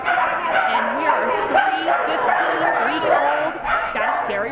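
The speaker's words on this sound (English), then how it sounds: "3 15-week-old Scottish Terrier puppies" Several 15-week-old Scottish Terrier puppies bark and yip together in a steady, busy chorus with whimpers mixed in, close and fairly loud at an outdoor rescue event.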